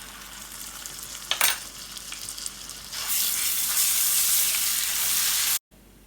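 Cumin seeds crackle lightly in hot oil before garlic ginger paste is added, then a loud, steady sizzling hiss swells up close and holds with a faint stir, ending abruptly.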